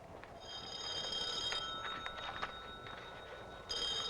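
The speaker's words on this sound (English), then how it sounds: "Will you answer your phone" A telephone rings with a bright, trilling electronic bell in two long bursts separated by a short gap, loud and near with no one talking over it.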